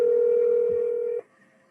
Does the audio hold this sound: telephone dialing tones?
yes